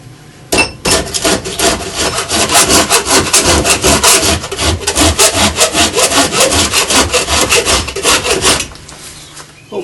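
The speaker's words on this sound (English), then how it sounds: "Now it's just a matter of getting in there with a file and getting it really smooth." A hand file rasps steadily over a yew and ash Windsor chair, fast back-and-forth strokes rubbing the wood smooth, loud and close for most of the stretch with no talking.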